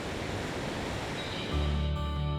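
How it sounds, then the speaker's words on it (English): Cameron Falls, a waterfall in Glacier National Park, a dense continuous roar of falling water heard close and loud, with no voices over it. "Cameron Falls is probably the most photographed waterfall in the park."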